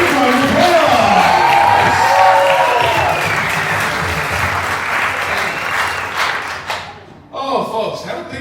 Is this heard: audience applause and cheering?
yes